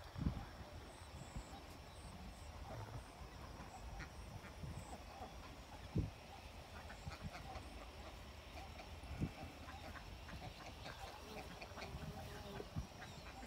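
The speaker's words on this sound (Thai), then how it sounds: "เป็ดไล่ทุ่งนะครับ" White free-range Muscovy and laying ducks kept around a farm pond give occasional quacks and a few louder honking calls. The calls come over a steady outdoor background, and someone speaks at times.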